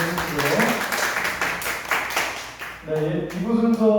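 A church congregation at a youth worship service applauds in a dense, steady burst of clapping, while a voice speaks over the end of it.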